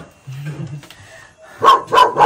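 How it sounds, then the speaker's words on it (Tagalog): A dog barks three or four times in quick succession near the end, close and loud, after quiet murmuring and a soft whimper. "Alagang aso."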